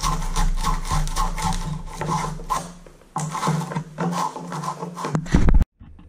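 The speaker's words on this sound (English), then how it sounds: "It's sanding the inside of this fitting" Steady abrasive rasping of sanding inside a 1/2-inch pipe fitting for a bathtub spout, close up and continuous for several seconds, with a brief pause midway and a sharp clatter near the end.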